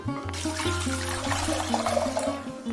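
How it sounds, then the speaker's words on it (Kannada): Water pours steadily into a metal pressure cooker while making bisi bele bath, a continuous close rushing with a low resonant drone underneath, no voices. "ಕುಕ್ಕರ್ಗೆ ಸ್ವಲ್ಪ ನೀರು ಹಾಕಿಬಿಟ್ಟು"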